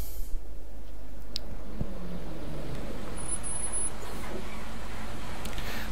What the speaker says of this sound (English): The sound of an engine brought me back to reality, and a bus pulled over.